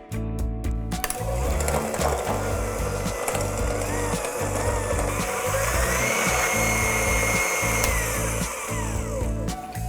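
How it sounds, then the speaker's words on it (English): An electric mixer whirs steadily as it beats butter into a mango coconut cake batter, a close, continuous motor drone with a rhythmic chugging pulse and no talking. "add the other half of the butter and then mix together until completely combined"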